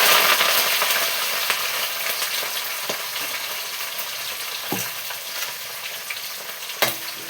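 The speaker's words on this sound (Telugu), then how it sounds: "కరివేపాకు వేసుకుందాం." Curry leaves hit hot oil with frying onions and green chillies, giving a loud, steady sizzle with occasional pops and stirring scrapes close by.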